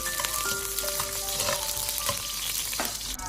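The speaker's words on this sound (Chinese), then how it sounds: "油热之后下入姜蒜，再快速的翻炒，把姜蒜炒香" Ginger and garlic stir-frying in hot oil in a wok, a dense continuous sizzle close up with quick scraping and tossing from the spatula and occasional light metallic ticks, no voices.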